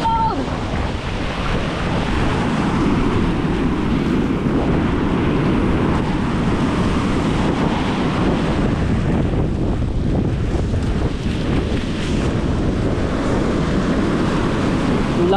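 Steady roar of ocean surf at Bucana during flooding, mixed with heavy wind buffeting the microphone, constant and loud throughout.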